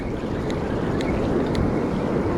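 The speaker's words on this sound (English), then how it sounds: "Let the waves do a little work here." Ocean surf washes steadily along the Oregon shore at a beach fishing spot, a continuous broadband roar with some wind buffeting the microphone and no voices.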